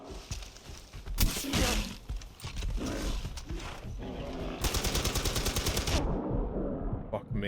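Rapid bursts of gunfire in the video game Far Cry 4, loud crackling volleys with a sustained stretch near the end, mixed with roaring game sounds.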